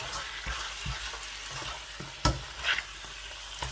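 Mutton frying over high heat in a kadahi, with a steady sizzle and repeated scraping strokes of a spoon stirring the meat, close and fairly loud with a sharper clank midway.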